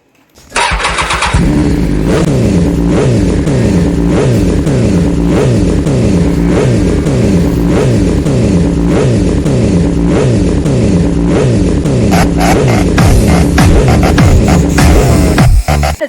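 A Kawasaki motorcycle engine in a village fires up and revs over and over in loud, close, regular surges, each rev rising and falling in pitch for about fifteen seconds without pause.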